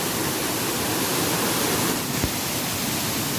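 Steady, full roar of the Aling-Aling waterfall in Bali, loud and constant throughout, a continuous rush of falling water with no voices.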